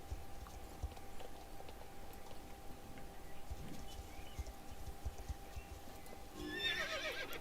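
Horse hooves clip-clop and a whinny in the Star Stable Online video game, with steady hoofbeats over a low background hum and a brighter neigh near the end.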